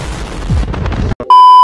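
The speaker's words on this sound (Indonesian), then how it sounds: "Ini gue udah nutup pintu tuh belum ketutup loh." A Datsun car door is swung shut with a tinny metal thump amid close handling noise, after which a loud steady electronic warning chime sounds.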